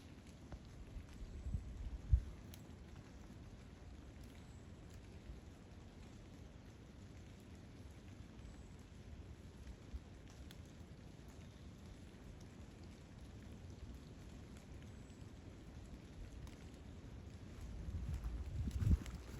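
Rain patters steadily in a wood on a wet, windy day, a soft continuous hiss with a few low thumps and a rumbling swell toward the end, no voices.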